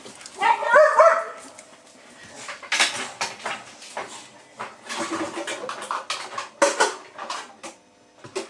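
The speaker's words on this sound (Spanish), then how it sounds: "Este perro." A dog barks in a home kitchen during cooking prep, several sharp scattered barks and yips at close range over about eight seconds, mixed with clinks of dishes and cutlery.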